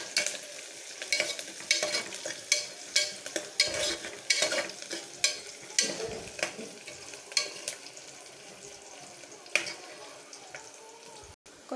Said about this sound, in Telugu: ఆనియన్, పచ్చిమిర్చి, కరివేపాకు కొంచెం గోల్డెన్ ఫ్రై అయ్యేంత వరకు వేయించుకోవాలి